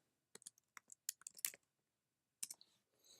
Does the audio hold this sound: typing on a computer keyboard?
yes